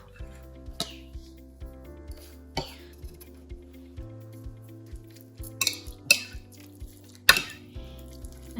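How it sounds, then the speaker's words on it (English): A spoon stirs and scrapes around a bowl, mixing yogurt dressing with ranch seasoning, salt, pepper, lemon juice and dill, with soft regular taps and a few sharper clinks against the rim, close and alone. "Give it a good mix."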